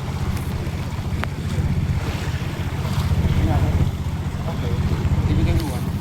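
A boat crosses water in a forested area, its low engine hum droning steadily under wind and lapping water.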